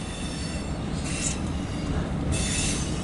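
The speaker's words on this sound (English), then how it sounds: "The locomotive is pushing or pulling." A CSX freight train hauling empty autorack cars rolls past with a steady low rumble of wheels on rail, and wheel squeal rises in two bursts; no one speaks.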